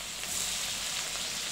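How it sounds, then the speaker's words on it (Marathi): Chopped onions sizzle steadily as they fry in a hot pan with crushed garlic and asafoetida, a close, continuous hiss for a bhaji of sprouted moth beans, potato and drumsticks. "3 कांदे टाकणार ना आई आता कट केलेले."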